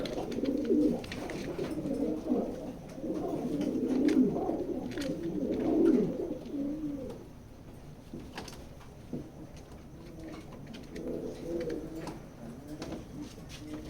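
Grizzle pigeons in a pigeon loft coo in steady overlapping rolls, moderately close, growing quieter midway before resuming, with faint clicks and no talk.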